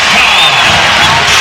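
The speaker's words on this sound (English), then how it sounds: "And this crowd is going absolutely crazy." A packed basketball arena crowd roars during a 2001 NBA playoff game, a loud, dense wall of cheering and whooping that holds steady throughout.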